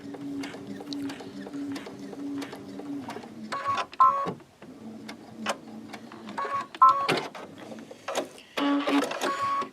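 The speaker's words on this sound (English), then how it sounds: "I'm just sewing on top of that line." A sewing machine stitches along a marked line on a mitered napkin in short start-stop runs with pauses between them, close and fairly quiet.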